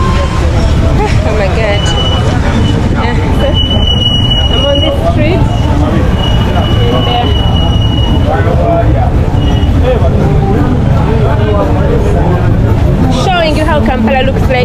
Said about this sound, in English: There's always traffic. Rain creates traffic normally.